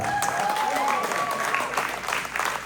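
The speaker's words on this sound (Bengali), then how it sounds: "একটা জোরে হাততালি" An audience at a stage play claps loudly and continuously for a few seconds, close and dense, while a voice talks under the applause.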